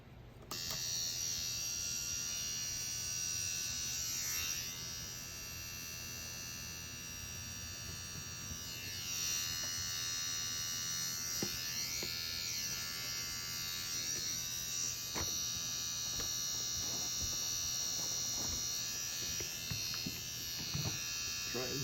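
Steady electric buzz of a rotary tattoo pen such as the Ambition Ninja wireless or EZ NANO, running continuously at close range while colour is packed in along the side, with a faint voice now and then under the hum.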